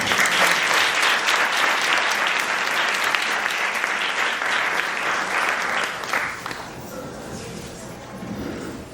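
An audience at a 99th birthday celebration applauds, a sustained crowd of clapping that holds steady for several seconds, then drops away sharply to scattered claps and room noise.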